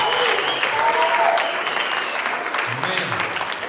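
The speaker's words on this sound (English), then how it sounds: "Let's give the Lord a hand clap of praise in this house." Congregation clapping in praise in a church service, a loud continuous wash of many hands throughout, with a brief faint voice layered in.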